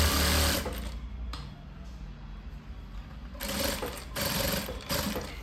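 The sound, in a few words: sewing machine stitching a blouse's chest and waist seams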